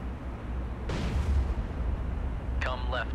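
An enemy warship opens fire in the naval game Cold Waters, a sudden heavy boom followed by a rumbling roar, with a voice speaking over it near the end.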